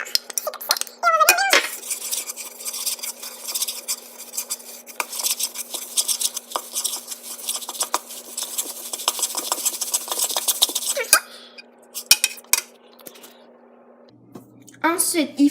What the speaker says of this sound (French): le miel, là, je vais me servir d'une cuillère parce qu'il est vraiment collant